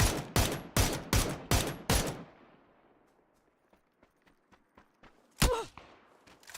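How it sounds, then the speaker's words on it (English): Rapid volley of about seven loud gunshots in a video game, evenly spaced, followed by quieter distant pops and one more heavy blast near the end. "He's shooting that guy that just attacked me"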